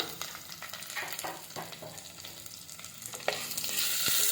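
Chopped onions frying in oil for chicken kothu curry give off a steady, moderate sizzle with occasional stirring scrapes and pops, and no voices.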